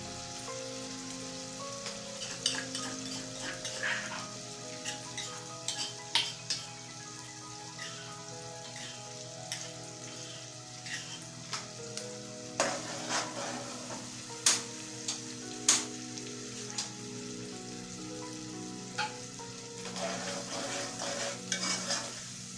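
Curry pakora mixture sautés in a pan with a gentle continuous sizzle, while a utensil scrapes and taps against the pan in irregular strokes close by.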